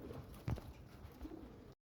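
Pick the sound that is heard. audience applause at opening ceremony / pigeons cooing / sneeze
pigeons cooing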